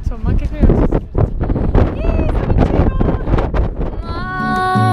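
Wind gusting hard into a microphone outdoors, stronger lower down than higher up, a steady low rumbling buffet that runs under continuous speech throughout.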